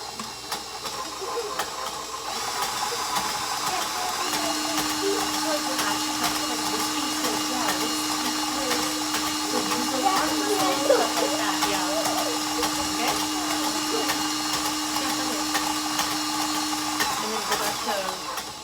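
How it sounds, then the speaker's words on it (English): Electric mixer running on medium high while mixing batter for a pizookie, a steady whirring motor hum under a voice talking, lasting most of the span. "go ahead and like mix it on medium high again"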